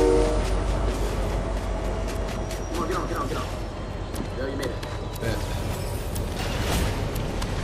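Rumbling train in the Fortnite video game, a steady rolling rail noise with brief tonal horn-like bursts, heard under game sounds throughout.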